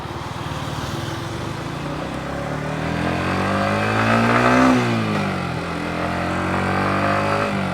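A Yamaha MT-15 naked motorcycle in first gear pulls away with a loud, close engine note that climbs steadily in pitch, dips briefly, then rises again with no speech over it.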